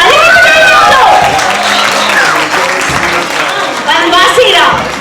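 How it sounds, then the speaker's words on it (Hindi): An audience claps loudly at a Ramleela performance, with dense sustained applause while someone speaks and calls out over it through a microphone. "ताली भी बजाइए आप लोग."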